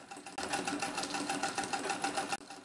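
A Singer 66 treadle sewing machine stitches fabric in a quick, even run of close mechanical clicks lasting about two seconds, starting and stopping abruptly, with no talk.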